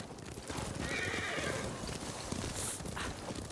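A video game horse whinnies loudly over a steady patter of hooves clip-clopping on the ground, close and clear with no voices.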